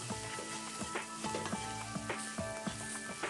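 Prawns fry with fried masala in a pan, a steady close sizzle broken by repeated sharp scrapes and knocks as they are stirred, with no talk.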